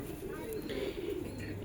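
Soft, low cooing of pigeons kept by a fancier in Allahabad, a faint throaty burble close by in a brief stretch with some background noise.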